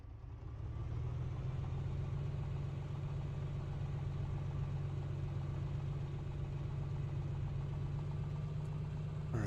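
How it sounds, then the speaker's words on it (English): The engine of a Piper PA-24 Comanche light aircraft idling around 1,000 RPM while warming up, a steady, close, droning low rumble that holds unchanged throughout with no voices. "while our engine's warming up"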